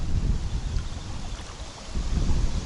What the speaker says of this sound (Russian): Ветер, ребята, ветер в морду.